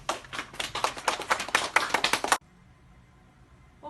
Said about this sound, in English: Give our junior librarians a big clap